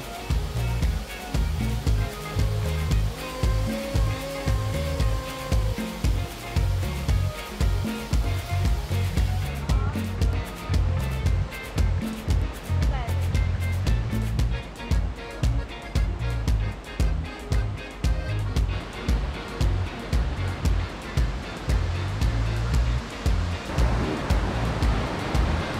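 Bongnae Falls, a three-tiered waterfall about 30 m high on Ulleungdo island, South Korea, gives a continuous, loud rushing roar of falling water that holds steady with no breaks for the whole stretch.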